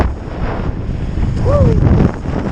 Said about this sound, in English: Oh, the wind is so messy.